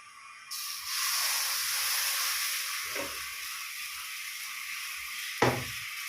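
A steady, fairly quiet rush of blowing air from a hair dryer starts after a brief pause and runs continuously, with a couple of soft low thumps partway through.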